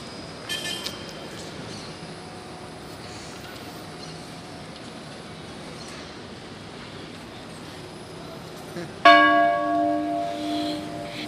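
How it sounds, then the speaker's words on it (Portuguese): A church bell rings out once near the end, its bright tone sustaining and fading, after a long stretch of quiet outdoor ambience at the Martinelli Building. "ele quer tocar o sino"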